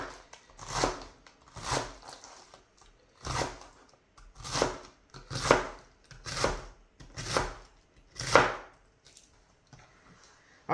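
A knife chops vegetables for a dip on a board, nine or so crisp, evenly spaced strokes close up, with no speech.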